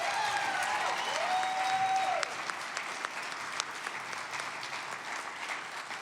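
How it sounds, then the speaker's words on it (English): An audience at an MLK recommitment celebration in Northwest Arkansas applauds steadily for a speaker, and a brief tonal sound rises over the clapping early on. The applause eases slightly partway through and continues alone. "Can we give him another round of applause, please?"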